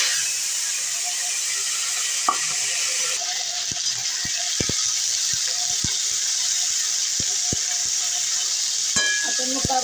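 Finely chopped, washed cabbage tipped into a hot kadai with cumin and curry leaves, giving a steady close sizzle with scattered sharp clicks and scraping bursts of stirring, no talk.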